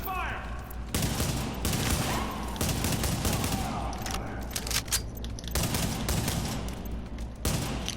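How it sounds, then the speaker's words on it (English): Suppressive gunfire in the Tom Clancy's The Division video game: dense, continuous bursts of rapid shots and booms with no let-up, loud and close, with faint voices mixed in underneath. "Suppressive fire."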